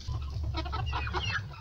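Several ornamental chickens and roosters cluck together in a pen, a busy overlapping chatter of short calls over a low steady hum.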